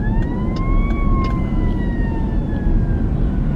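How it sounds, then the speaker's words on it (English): Wailing sirens from police cars and fire engines on a road, a loud rising and falling tone sweeping over heavy traffic rumble, continuous throughout. "there's literally like police cars and fire engines coming"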